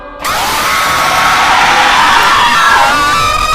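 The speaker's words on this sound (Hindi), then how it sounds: "वो चीज़ बहुत ज़ोर से चीखा" A creature in a horror story lets out a loud, sustained scream, a harsh wailing cry that starts abruptly and holds at full strength for several seconds with a wavering, shrieking tone.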